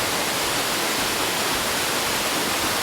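A waterfall used for waterfall meditation training pours down in a loud, steady, close roar of rushing water that continues unbroken throughout, with no voices.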